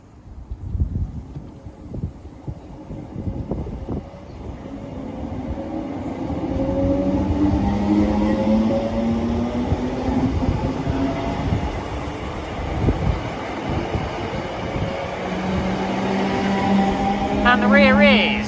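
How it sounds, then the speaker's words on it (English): A Scotrail service from Dalmuir to Cumbernauld pulls out of Blantyre station, its rumble and rising whine building from faint to loud and close, with wheel clatter and a voice talking over the start. "Departing out now is the 1020 Scotrail service from Dalmuir to Cumbernauld."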